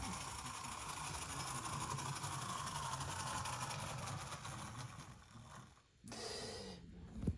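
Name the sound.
HO scale BB 9200 model locomotive running and stopping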